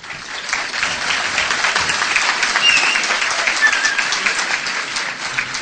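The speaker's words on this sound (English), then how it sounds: "I will ask that you keep your clapping and your cheering" Debate audience breaks into sustained, fairly loud clapping, many hands in a dense wash that swells slightly midway and holds steady, with a few faint whistles or cheers mixed in.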